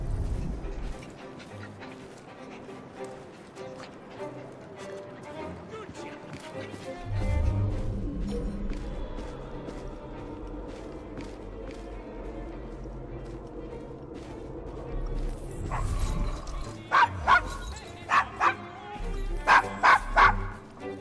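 Dog barking in the Assassin's Creed Syndicate video game, set in the Devil's Acre district of Victorian London; sharp barks and yips come in bursts toward the end, over a busy game soundtrack and background ambience.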